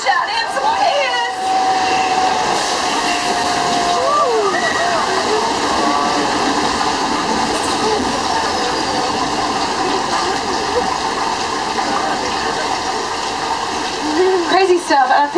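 The flash flood special effect on the Universal Studios Hollywood tram tour gives a loud, steady roar of rushing water, close and continuous, while riders shout and talk over it.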